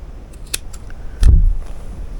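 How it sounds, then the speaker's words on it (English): Scissors snip through fabric being cut for a quilted sweatshirt, a few sharp close clicks followed by one heavier, louder cutting crunch, with quiet background otherwise. "Just want to cut this right here."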